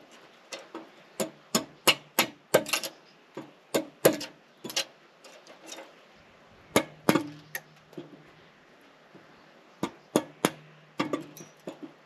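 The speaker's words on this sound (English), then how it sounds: "then I'm gonna get the chisels out" Sharp wooden knocks from a chisel being struck into wood in a toolshed come in irregular bursts of close, crisp hits, some in quick runs and others spaced apart, with no talking.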